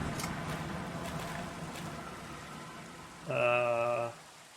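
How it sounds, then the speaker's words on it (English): Steady rain hisses evenly throughout, with a short humming tone rising above it near the end. "Oh, good, it's raining."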